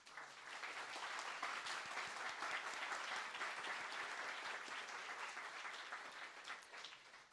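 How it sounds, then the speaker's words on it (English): Steady applause from a conference audience at a peace-movement livestream event, a dense even patter of many hands clapping that holds at a constant level for the full length, with no voices rising above it. "a big round of applause for Moataz."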